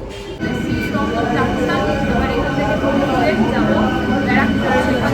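A train pulling into a station, with a loud, continuous mechanical rumble and drawn-out metallic tones beneath a crowd of voices on the platform.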